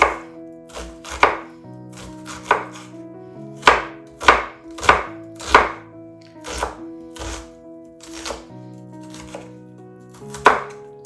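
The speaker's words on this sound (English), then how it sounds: "I like to just start by cutting my onion in rows and then cut it one way, and then come back and finish it the other way" A knife chops an onion on a cutting board with about a dozen sharp, close thunks in a loose, uneven rhythm. Music plays underneath and there is no talk.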